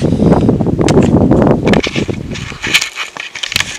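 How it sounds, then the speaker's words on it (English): Strong outdoor wind batters the microphone with a loud, low rumbling roar that eases after a couple of seconds into lighter gusts, rustling and crackles, with no voices. "We're going to let the wind die down."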